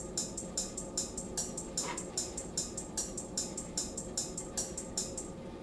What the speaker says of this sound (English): he just had hi-hats, 8 hi-hats per measure